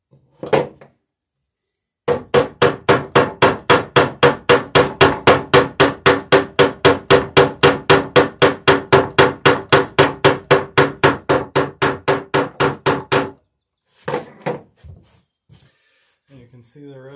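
Rapid, evenly spaced hammer blows ring out, roughly forty sharp metallic strikes setting rivets in the wooden frame of a traditional Marblehead sailing dory, close and loud, followed by a few scattered knocks and a short pause.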